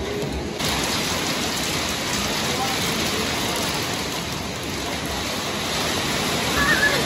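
Hail pours down steadily on the surfaces around a spot in Altai Krai, a dense, continuous hiss and patter of hard pellets that stays loud and even throughout.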